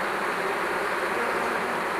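A dense, continuous buzz of honey bees swarms around an open polystyrene hive, steady and close with no talk.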